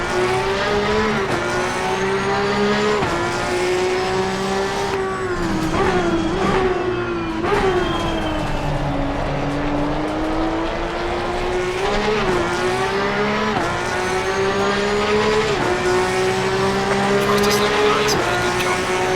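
Porsche 911 GT3 Cup on the Donington Park circuit in Assetto Corsa Competizione, its engine note rising in loud sustained revs that climb, dip through a gear change and climb again, continuous and close.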